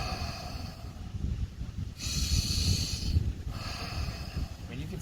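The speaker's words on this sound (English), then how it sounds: "Long exhales." Slow, long exhales through the mouth during a guided breathing exercise, soft airy whooshes heard up close.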